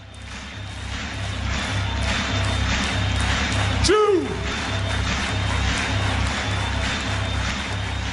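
A large seminar audience claps in a steady, sustained roar of applause lasting several seconds, with a brief sliding tone partway through and faint talk beneath.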